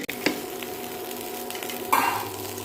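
Butter melts and sizzles in a pan for paneer butter masala with a faint, steady hiss, a light clink at the start and a brief scrape of a spoon near the end.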